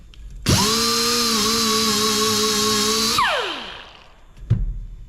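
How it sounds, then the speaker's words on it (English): A power tool grinds off a rotating surface on a late-1938 Ford transmission part, starting abruptly and running at a steady high whine for under three seconds before spinning down, followed by a brief clunk. "So we should actually grind that off."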